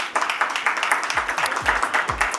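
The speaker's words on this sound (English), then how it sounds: "Can I have a round of applause for the two ladies, please?" Audience applause at a business policy summit on US–India relations, a steady crowd clapping that runs throughout with low thumps underneath.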